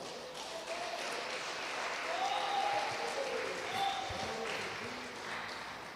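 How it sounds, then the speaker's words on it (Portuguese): Steady applause from a church congregation during a live service, many hands clapping together in a sustained wash of sound that swells slightly in the middle. "Quem pode dar um glória para Jesus acompanhado das palmas bem alegres?"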